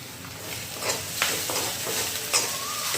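Chopped onion fries in a pan with coriander and a few curry leaves, giving a soft, steady sizzle broken by occasional stirring scrapes, close and brief with no talk.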